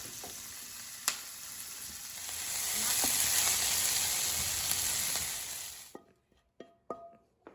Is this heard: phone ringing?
no